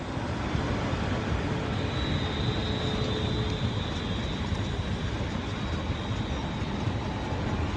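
A passenger train terminating after arriving from London Euston, heard at a West Midlands station as a steady, broad rumble with a faint high whine, holding at an even level throughout with no talk over it.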